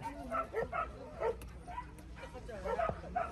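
Puppies for sale at an outdoor dog market yip, bark and whimper in quick, overlapping bursts, fairly faint against a low background hum, with no talk.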